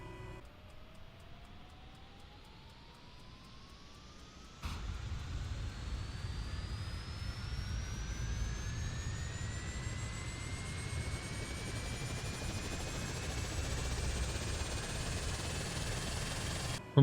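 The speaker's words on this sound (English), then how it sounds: "This should get the propellers spinning any second." A simulated aircraft engine starting in Microsoft Flight Simulator 2020: a starter whine climbs steadily, then the engine catches with a sudden jump into a louder rumbling drone as the propellers spin up, the rising tones continuing to climb.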